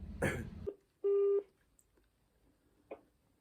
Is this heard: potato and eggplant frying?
no